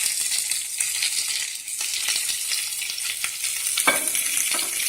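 Onions and then peppers sizzle and fry steadily in a hot pan, a dense crackling hiss with occasional stirring scrapes and clatters, fairly close and without talk.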